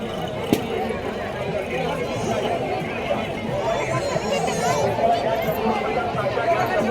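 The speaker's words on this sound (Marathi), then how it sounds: "लयच गर्दी आहे बाबा" Dense crowd at a Palkhi procession, a steady outdoor babble of many voices and shuffling movement, continuous and close throughout, with a person speaking nearby.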